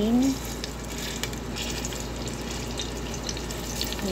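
Garlic frying in a pan while being stirred, a steady close sizzle with faint scraping running throughout, a brief voice-like tone at the very start.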